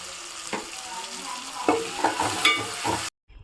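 Ginger garlic paste and turmeric fry in hot oil for a dry prawn curry, a close crackling sizzle with uneven bursts and spoon scrapes before a sudden brief cut.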